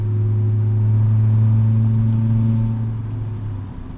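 A rattling $500 beater car with a bad exhaust drives along, recorded from inside: a loud, steady low engine drone with a hum on top that eases off and fades somewhat near the end, with no talking.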